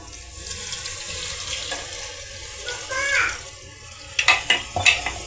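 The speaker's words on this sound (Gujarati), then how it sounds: "હવે આમાં નાખી દઈશું આપણે પાણી." Water is poured into a cooking pot of stuffed brinjal (eggplant) curry, giving a steady gushing splash that builds and is followed by a few sharp clanks and sizzles, with no talking.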